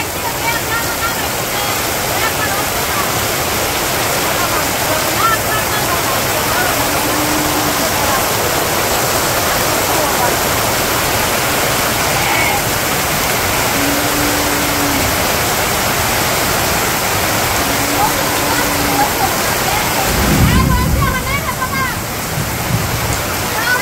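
Heavy downpour in a farming village, a dense, steady roar of rain hitting the ground and surfaces that lasts throughout without a break, with a brief louder low splash or thud near the end.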